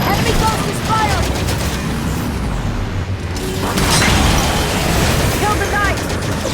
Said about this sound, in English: Enemy ghost is firing!